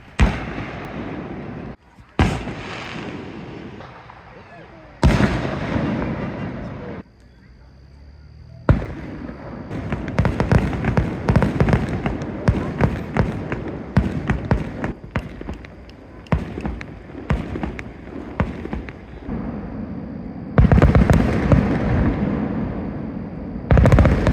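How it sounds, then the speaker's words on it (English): Fireworks set off by locals on a hilltop at dusk near mountains go off as a string of loud, sharp bangs and crackling bursts, some in quick clusters, with brief quiet gaps between volleys. "a handful of locals set off their own fireworks while waiting for the show to start."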